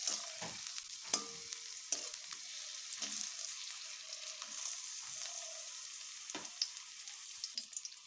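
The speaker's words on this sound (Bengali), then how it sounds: "বেগুনগুলোকে আমি এইভাবে নেড়ে ভেজে নিচ্ছি।" Eggplant pieces are stirred and fried in a pan, with a soft, even sizzle and repeated thumps and scrapes of a spatula, close but fairly quiet, with no speech.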